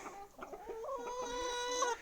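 Chickens cluck and chatter close by, with a rooster's drawn-out crow rising over them near the end.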